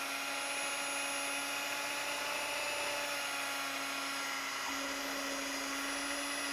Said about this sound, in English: now we're going to beat this with an electric mixer on low speed for 30 seconds